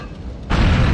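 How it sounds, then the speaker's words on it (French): A bomb blows up in GTA 4 with a sudden loud boom halfway through, followed by a sustained roaring, rumbling blast that fills the rest of the moment after a quieter lead-in. "J'ai une bombe à faire sauter."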